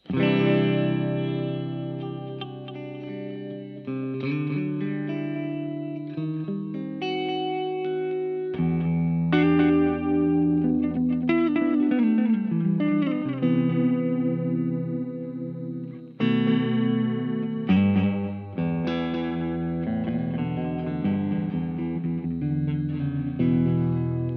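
Electric guitar played through a Fender HammerTone Space Delay pedal with the modulation rate turned fully down, giving sustained chords and notes a subtle, slow vibrato-like wobble with trailing repeats; loud and steady throughout, no voices.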